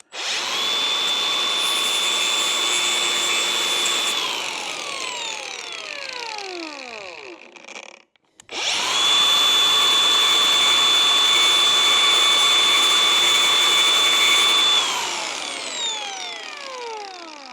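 An angle grinder cuts into the exterior windscreen A pillar of a new Land Rover Defender L663 with a loud, high whine. Two long runs are each held steady, then the pitch drops as the tool spins down, with a short pause between them.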